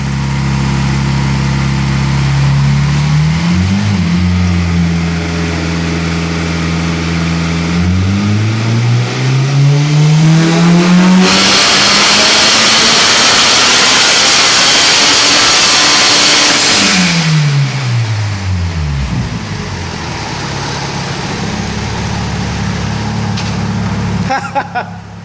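Turbocharged Honda engine running on a dyno with its non-methanol base tune, roaring loud and close as it revs up through a long sweeping pull, turbo whine rising, then easing back down to a steady idle.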